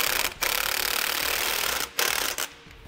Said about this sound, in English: we're going to tighten up the four bolts that hold our sway bar to the bracket